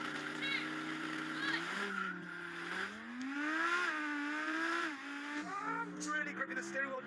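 An Audi RS with a V10 engine launching in a drag race, its note climbing and dropping through gear changes as it accelerates hard, heard from inside the car with a voice briefly speaking.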